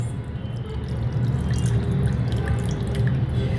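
Water poured from a cup onto mutton liver seasoned with salt and turmeric in a pan, a steady close splashing and trickling stream with small drips over a low background hum.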